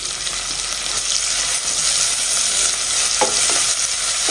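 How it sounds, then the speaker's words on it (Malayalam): Sliced medium onion stirs and fries in a hot pan with ginger and garlic, giving a steady close sizzle with scraping stir strokes throughout and no talking. "ഒരു മീഡിയം സൈസ് സവാള ഇതുപോലെ നീളത്തിൽ കട്ട് ചെയ്തെടുത്തത് ചേർത്ത് കൊടുക്കാം"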